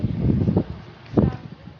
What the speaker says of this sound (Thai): วันนี้ลมเย็น ลมแรงมาก